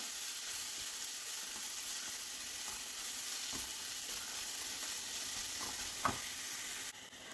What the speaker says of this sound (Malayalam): എല്ലാം കൂടി ഇട്ട് കൊടുത്ത് ഒന്ന് വഴറ്റി കൊടുക്കാം